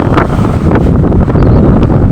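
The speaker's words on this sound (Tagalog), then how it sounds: "Ang lakas ng hangin" Strong wind at sea blowing hard over a boat amid large waves, a loud, steady buffeting roar battering the microphone continuously with no speech.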